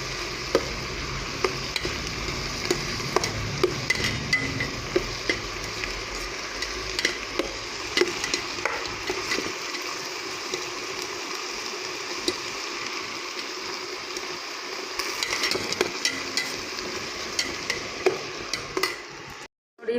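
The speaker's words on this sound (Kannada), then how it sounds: "ಗೋಲ್ಡನ್ ಕಲರ್ ಬರೋವರೆಗೂ ಹುರ್ಕೊಳ್ಳೋಣ." Cabbage palya fries in a pan with a steady sizzle while a spatula stirs and scrapes, its light repeated taps and scrapes running through the whole stretch.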